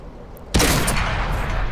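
A tank cannon fires in a World of Tanks battle with the T-50-2 light tank: one loud, sharp blast hits suddenly and rolls into a long, dense rumble that stays loud to the end.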